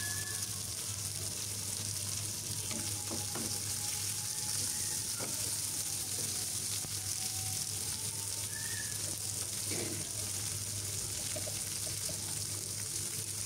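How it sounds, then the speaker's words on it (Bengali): Chopped onions frying in a pan for chicken bhuna, a steady close sizzle that runs throughout, with faint scrapes from stirring now and then. "কাটা পেঁয়াজ দিয়ে একটু নাড়াচাড়া করে ভেজে নিচ্ছি"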